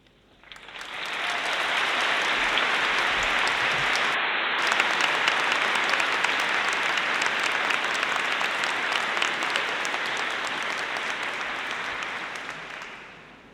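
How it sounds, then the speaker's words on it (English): At a graduation ceremony the audience breaks into loud, sustained clapping with cheers and whoops, swelling quickly, holding for several seconds, then tapering off near the end. "I think the clapping, the cheering, the whooping was pretty good."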